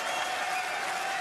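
A steady wash of dense applause from the arena crowd at the 2018 Masters snooker final, greeting runner-up Kyren Wilson; continuous, full and even throughout, with no clear voices on top.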